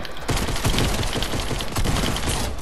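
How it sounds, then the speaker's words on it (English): Gunfire rattles in rapid, dense bursts throughout a video game firefight, loud and close, sustained for a few seconds with little pause and no talk over it. "Why every time I'm here, I'm already getting shot at? And he has a shotgun."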